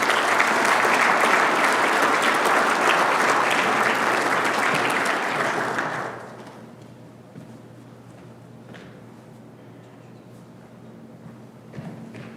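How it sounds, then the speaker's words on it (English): Loud, dense audience applause at a Boy Scout troop Eagle Court of Honor, honoring the troop scribe, sustained for about six seconds before cutting off to a quiet room hum. "So give Billy a big round of applause."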